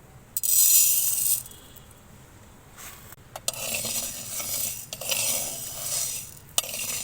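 Black gram is dry-roasted on a clay tawa, the grains stirred in bursts of gritty rattling and scraping with brief pauses between them and occasional sharper clicks.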